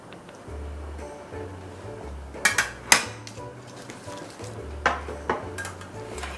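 Duck and potato dumplings are set back onto a metal tray with a run of sharp clinks and clanks, a few louder knocks standing out over quiet kitchen background.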